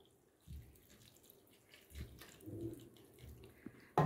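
Dissolved rock sugar syrup poured into pongal, a soft liquid trickle with a few brief splashy bursts, faint and close, with no talking.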